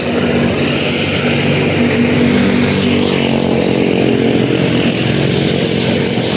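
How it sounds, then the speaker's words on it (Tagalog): Loud, close engine roar of a motorcycle, steady and droning for several seconds as it passes nearby. "May motor pa."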